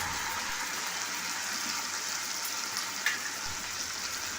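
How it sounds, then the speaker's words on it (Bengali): Continuous sizzling of ground ginger, garlic and cumin spice paste frying with fried onions in a pan, steady and fairly quiet, with one light clink partway through. "এইবার আমার বেটে রাখা মশলাগুলো দিয়ে দিলাম"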